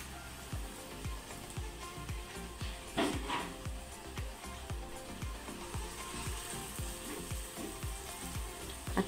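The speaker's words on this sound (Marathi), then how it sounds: "आता हे पण आपण फ्राय करून घेऊया" Medu vada, lentil fritters, frying in hot oil, a loud continuous bubbling sizzle with fast crackling pops, close by and alone with no voices.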